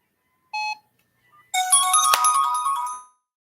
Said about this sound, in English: Hang on a minute, I'll turn my phone off.